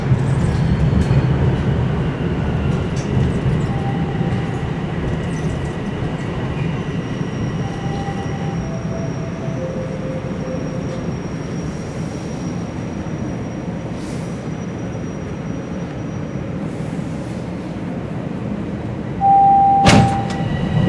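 A TTC Line 1 subway train runs between Lawrence West and Sheppard West, giving a steady, loud rumble of wheels and motors throughout, with faint tonal whines and a brief high squeal near the end.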